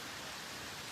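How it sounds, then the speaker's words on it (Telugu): Heavy rain pours down in a dense, unbroken hiss, loud and close for a brief moment, with no voices. "ఇప్పుడు అది చూస్తే మస్తు వర్షం పడుతుంది"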